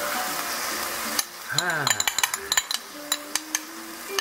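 Fried kwetiau flat rice noodles with egg being stirred in a pan, with a steady sizzle followed by a run of sharp metallic clinks and scrapes of the utensil against the pan, close up.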